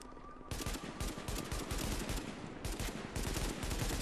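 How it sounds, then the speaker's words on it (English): Rapid automatic gunfire in the video game Tom Clancy's The Division, fired in the Dark Zone. Dense, loud bursts of shots run almost nonstop after a brief quieter start, with no talking. "I'm more or less just shooting that guy"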